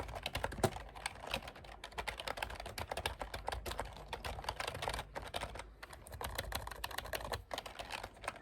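Steady, close keyboard typing in a quiet sleep-studio interview setting, a continuous run of soft rapid clicks and taps with brief pauses, heard alone without talk.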